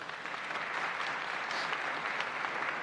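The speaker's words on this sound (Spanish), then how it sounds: "Un aplauso, por favor." Brief, soft applause from an audience at a lecture on Japanese tea history and culture, an even patter of many hands heard from a distance.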